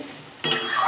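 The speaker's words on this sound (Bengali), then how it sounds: "এবার এটাকে সমানে নাড়তে হবে" Lote (Bombay duck) fish seasoned with a little sugar and salt is stirred in a pan, a quiet moment breaking into a sudden burst of scraping and sizzling that grows slightly louder.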